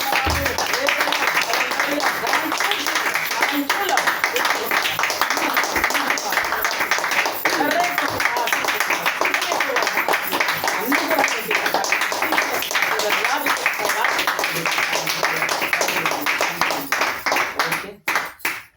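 A church congregation claps loudly in praise, dense continuous applause sustained for most of the stretch before tapering off abruptly near the end.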